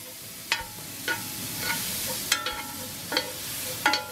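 Diced onions cooking in a pan alongside bacon, a soft steady sizzle punctuated by a handful of sharp clicks and scrapes spaced roughly every half second, nearby with no one talking.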